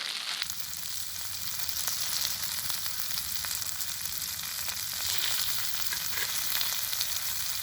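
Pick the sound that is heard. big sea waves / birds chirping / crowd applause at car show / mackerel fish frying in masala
mackerel fish frying in masala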